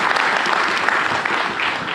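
Audience applause for the Finance Minister at a live stock market broadcast event, dense steady clapping from a crowd throughout the short stretch.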